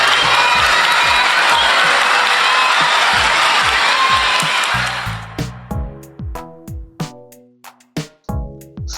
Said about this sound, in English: The crowd erupted into applause.